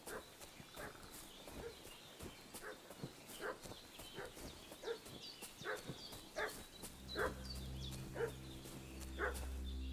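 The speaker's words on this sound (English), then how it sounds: "What's that dog making such a fuss about?" A dog barks repeatedly in the game Kingdom Come: Deliverance II, a steady run of distant barks and yips over horse hooves clip-clopping, with a low droning tone rising near the end.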